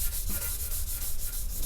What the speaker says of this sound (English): So I'll go ahead and scuff this up some.